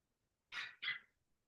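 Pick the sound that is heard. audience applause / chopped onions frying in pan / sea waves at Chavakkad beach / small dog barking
small dog barking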